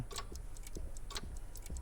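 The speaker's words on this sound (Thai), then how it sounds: "นาฬิกาอะไรดัง" Steady ticking of a clock inside a haunted house in the Alone in the Dark video game, a quick regular rhythm of faint, crisp ticks heard alone.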